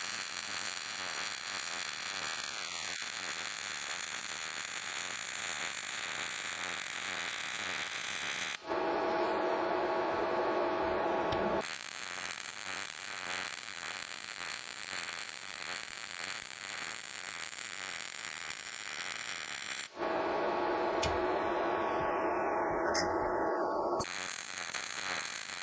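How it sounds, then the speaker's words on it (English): A MIG welder running a 1/4 inch bead across a steel plate gives a steady, loud crackling buzz that lasts for long stretches. Brief shifts in tone break it up, and nobody speaks. "So let's start welding."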